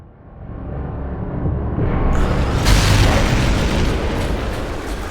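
Anti-aircraft gun fire and explosion in Sniper Elite 3: a loud, sustained booming rumble that swells after a couple of seconds into a heavy blast and keeps roaring without any talk.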